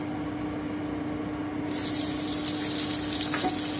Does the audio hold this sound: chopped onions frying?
yes